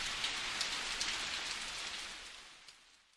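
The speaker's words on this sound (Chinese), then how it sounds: "下雨了" Steady rain patters on a surface as a soft, even hiss with scattered drop taps, fading away toward the end.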